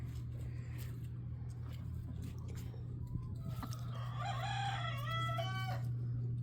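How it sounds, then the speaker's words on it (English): Young roosters crow over a steady low engine-like hum, the last crow rising clearly and loudly after quieter calls. "They're roosters. They're learning, they're getting their voice."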